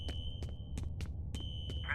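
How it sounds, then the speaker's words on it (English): A smoke detector alarm cue in the video game F.E.A.R. chirps in a quiet, steady high-pitched pattern of short repeated beeps over a faint low hum. "this unironically sounds like the smoke detector is going off in the house that I'm in"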